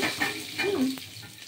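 Cumin seeds and two bay leaves sputter in hot oil. A brief close sizzle comes with light metallic clinks from a utensil, and there is no speech.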